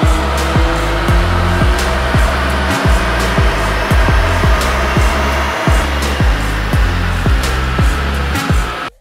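A flow bench blows air through a CTS Turbo intercooler for a VW MK8 GTI. It makes a loud, steady rushing whoosh with a pulsing, droning hum underneath, then cuts off abruptly at the end.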